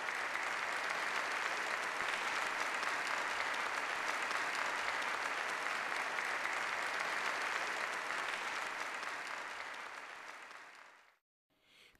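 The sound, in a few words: enthusiastic applause from banquet participants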